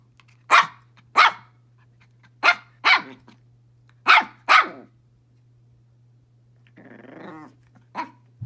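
A dog gives a series of sharp, loud barks spaced about a second apart, then a low rumbling growl, then another bark, with quiet and a steady hum between them.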